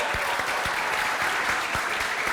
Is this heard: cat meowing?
no